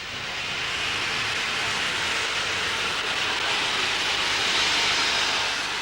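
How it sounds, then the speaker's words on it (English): Loud, steady hiss of steam venting continuously from a steam locomotive at close range, a broad rushing roar with no breaks and no voices. "This is pure steam here, what's coming out now."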